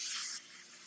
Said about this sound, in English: And I'm going to use non-stick vegetable oil spray.